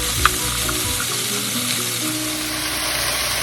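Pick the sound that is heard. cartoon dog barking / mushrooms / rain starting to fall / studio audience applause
mushrooms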